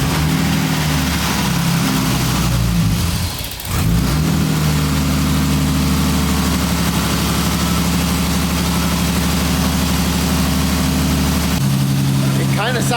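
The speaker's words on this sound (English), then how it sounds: "I'm gonna go ahead and get it started and let it warm up and see if there's any oil leaks." Forged turbo M50 engine in a BMW E30 cranks and fires up, then settles into a steady, loud, rumbling idle with a brief dip near the start and a slight shift in tone near the end.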